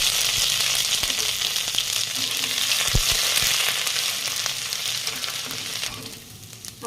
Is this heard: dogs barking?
no